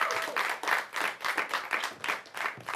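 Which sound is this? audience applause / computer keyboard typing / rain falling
audience applause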